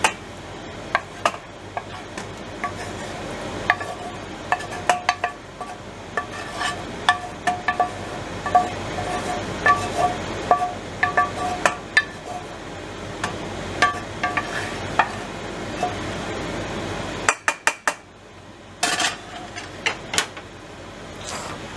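A utensil stirs noodles in a bowl, with steady clicking and tapping against the bowl over a low background hum, ending in a few sharper clacks after a brief pause.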